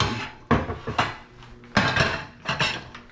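A frying pan handled and set down on a kitchen stove to heat for breakfast potatoes, several sharp metallic clanks and scrapes in uneven succession, close and fairly loud.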